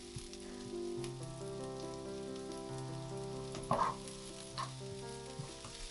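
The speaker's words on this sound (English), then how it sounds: "I'm dropping in my shallots, then making sure to spread those evenly across the surface of the pan" Shallots sizzle steadily as they fry in oil in a pan, with a couple of brief utensil clatters midway, all beneath continuous background music.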